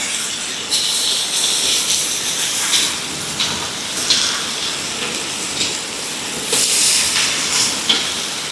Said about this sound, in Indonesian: Hujannya tuh semakin deras